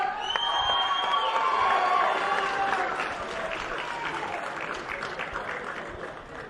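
Crowd applauding and cheering at a boxing weigh-in for Claressa Shields and Savannah Marshall, a dense wash of clapping with whoops and shouts, loudest early then easing slightly, fairly distant.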